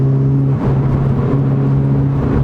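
A Ford Fiesta ST with a 350 bhp Stage 4 tune and an EBC big brake kit builds speed, its engine giving a steady, loud droning hum from inside the cabin with a brief dip in pitch partway through.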